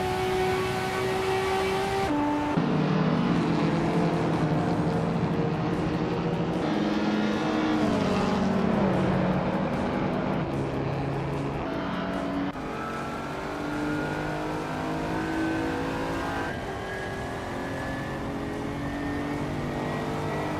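A 1996 Lotus Esprit race car engine in a racing video game, loud continuous revving that climbs through the gears with sharp pitch drops at each shift, close and sustained throughout.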